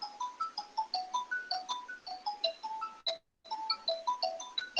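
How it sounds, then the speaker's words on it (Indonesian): A phone ringtone plays a repeating melodic chime pattern, clear and fairly close, pausing briefly before the tune resumes. "Saya terima telepon bentar ya."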